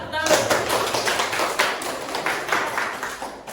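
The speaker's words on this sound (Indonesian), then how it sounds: "Oke, tepuk tangan dulu untuk Pak." A group claps in brief scattered applause during a high school physics class presentation, the claps tapering off, with voices talking over them.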